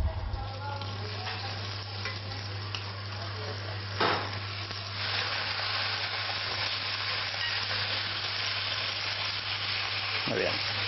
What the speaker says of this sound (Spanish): el primer paso es echar un poquito de aceite en la plancha, así no se nos pegará el lomo y el bacon